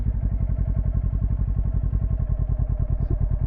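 Motorcycle engine pulses steadily and closely at low revs as the rider slips the clutch through a slow tight turn during beginner practice drills, a loud rhythmic chugging throughout.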